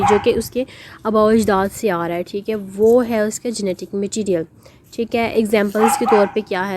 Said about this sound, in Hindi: ये पीछे कुत्ता भौंक रहा है